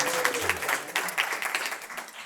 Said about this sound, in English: ladies and gentlemen, a little applause for Farrell